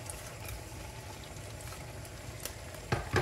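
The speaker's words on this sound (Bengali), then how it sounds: "নুডলসটা রান্না করার জন্য আমি কড়াইতে বাটার দিয়ে দিছি, বাটারটা গলতেছে।" Butter melts in a wok with a low, steady frying sizzle up close, ending in a couple of sharp knocks.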